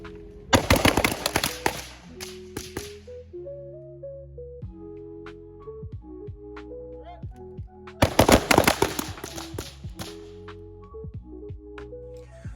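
Carbine rifle fired in a training drill, two clusters of sharp, loud shots in quick bursts near the start and again around two-thirds through, with a tonal musical or electronic background running between them.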